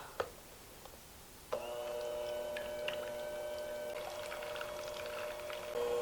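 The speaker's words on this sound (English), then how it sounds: "Then you're going to take your electric hand mixer. We're going to beat this until we get soft peaks." An electric hand mixer whips heavy cream in a mixing bowl, starting with a click and then running as a steady whine with a faint scraping of the beaters. It continues unbroken and fairly close, with no talking.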